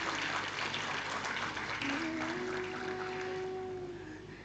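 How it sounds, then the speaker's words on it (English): Applause from an audience at an executive education alumni event's inaugural session, a dense steady patter of many hands with a sustained tone running through the latter half, tapering toward the end. "A huge round of applause for everyone"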